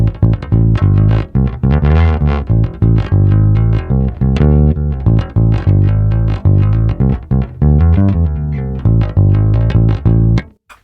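A bass guitar played through a Line 6 Helix preset with EQ for a woody P-bass tone thumps out a busy, punchy line of sustained low notes and quick runs, loud and upfront with no talking.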